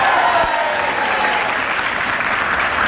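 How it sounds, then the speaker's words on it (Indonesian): A studio audience on the Indonesian talk show Bukan Empat Mata claps in a dense, loud, sustained burst of applause. "Tepuk tangan sekali lagi untuk."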